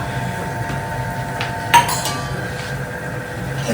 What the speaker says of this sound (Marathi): आधी मोहरी टाकते मी नंतर कडीपत्ता